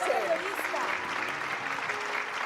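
A theater audience applauds at a live stage event, a dense steady clapping that lasts the whole moment, while a voice talks over it.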